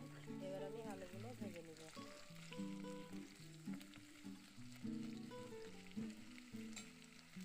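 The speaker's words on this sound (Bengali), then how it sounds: "এবার আলুগুলো ভেজে নিব" Potatoes frying in oil make a soft, steady sizzle with occasional stirring scrapes, heard quietly beneath melodic background music and some voice.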